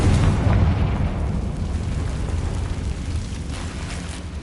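A Confringo explosion spell in Hogwarts Legacy lands as a deep booming blast that rolls off into a long, fading rumble, near and full with no speech.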